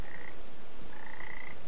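In the video game Papo & Yo, frogs being thrown give two brief, high, tonal croaks over constant background ambience.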